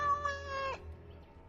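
Single cat meow in the fantasy role-playing game Dragon Age: Origins - Awakening, a clear drawn-out tonal cry lasting under a second that drops off abruptly, heard alone over quiet background.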